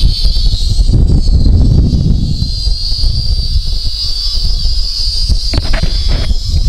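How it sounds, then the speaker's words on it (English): Gusty wind roars and buffets steadily across an outdoor flight of a LiDi RC L6 FPV 5.8GHz hexacopter, with the drone's thin high motor whine persisting over the low rumble. "Wind's really blowing now"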